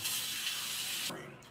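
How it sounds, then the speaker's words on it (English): Tap water runs in a steady broad hiss as something is rinsed under it during home cooking, cutting off abruptly near the end. "let me rinse this off"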